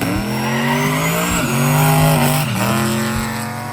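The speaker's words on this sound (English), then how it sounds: "I decided to drive the Malibu down to the test spot and size up my competition" A Chevrolet Malibu driving hard with tires squealing, a loud close engine roar under sustained high-pitched tire screech that shifts pitch as it revs through a few seconds.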